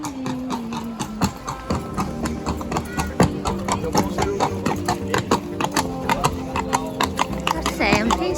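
Horses' hooves clip-clop steadily on a street in Seville, Spain, near the cathedral and Alcazar Palace, a close, busy rhythm of many overlapping hoof strikes under background voices.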